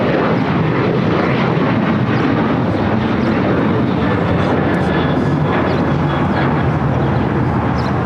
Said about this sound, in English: That was American Airlines 291 taking off to Chicago here on a 737-800.